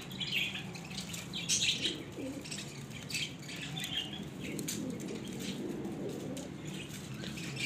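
Pigeons kept by a hobbyist in a loft give scattered soft coos, patter and wing flaps, with occasional chirps close by against a low background, and no one speaks.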